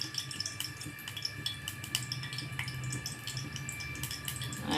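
Tap water runs steadily while ingredients for a homemade pickle (pachadi) are rinsed, a continuous close splashing wash with small clinks, no talking.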